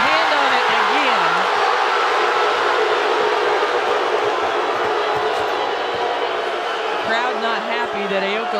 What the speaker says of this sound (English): Crowd not happy that Aoka Lee went to the floor